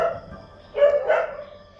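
A neighbour's dog barks in two short bursts, the first a little louder than the second, faint and some distance away over quiet background noise.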